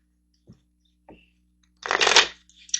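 Tarot cards handled on a table: two faint taps, then a loud riffling shuffle of the deck followed by a couple of quick card flicks, close and alone with no talking.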